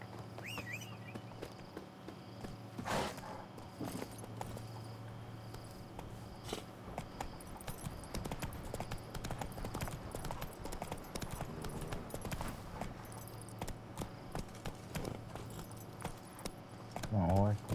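Roach the horse walking in The Witcher 3, with hooves clip-clopping in a steady rhythm alongside jangling tack, crickets and insects faint in the background, and a brief voice near the end.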